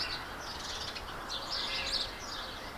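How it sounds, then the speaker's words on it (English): Faint high chirps and twittering of birds singing outdoors in spring, scattered over a steady background hiss with no talking. "Yeah, so it is spring. You can hear the birds."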